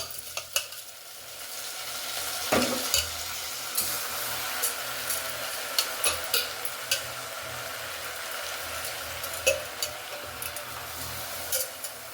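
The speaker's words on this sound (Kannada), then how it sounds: "ತೊಳೆದಿಟ್ಕೊಂಡಿರೋಂಥ ಅಕ್ಕಿ ಮತ್ತು ಬೇಳೆನ ನಾನು ಈ ಒಗ್ಗರಣೆ ಒಳಗಡೆಗೆ ಹಾಕ್ಕೊಳ್ತೀನಿ" Steady sizzling of washed rice and lentils frying in a spiced oil tempering in a pan for vegetable pongal. Scattered clicks and scrapes of stirring run through it, and no one speaks.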